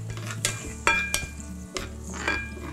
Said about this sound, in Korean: 마늘 향이 나도록 볶아 볼게요.